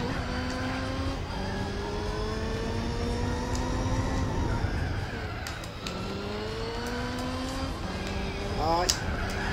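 Several race car engines in the Gran Turismo video game roar and rev close together, pitches climbing and dropping through gear changes as cars jostle nearby, with occasional sharp mechanical clicks.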